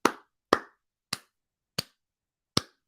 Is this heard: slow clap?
yes